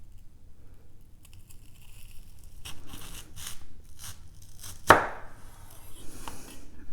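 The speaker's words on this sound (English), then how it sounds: "Take one onion that's sliced and I'm going to cut it right in half." A knife slices through an onion, already cut into slices, on a cutting board: a few soft crunchy cuts build up, then one sharp, loud chop lands as the blade comes down through it, with light handling afterwards.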